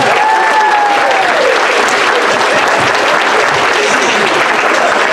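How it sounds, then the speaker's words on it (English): A school crowd applauds loudly at the Enniscorthy Community College Transition Year variety show, with thick, continuous clapping throughout and a brief whistle-like cheer early on. "Give him a big round of applause, very good."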